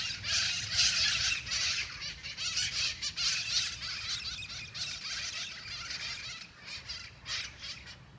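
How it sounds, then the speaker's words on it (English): Wild parrots in a migrating flock squawk and screech continuously, a dense mass of shrill calls rising and falling in bursts over a steady low rumble. "once a year they migrate through here and make a whole lot of noise"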